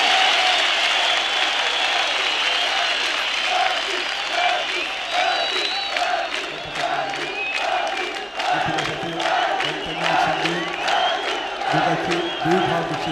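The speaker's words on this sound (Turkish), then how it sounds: "Alkış, alkış!" Audience at a ceremony honoring Ferdi Tayfur applauds steadily throughout, a dense wash of clapping with scattered cheers and voices rising over it in the second half.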